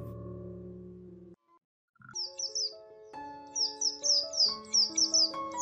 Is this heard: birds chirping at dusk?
yes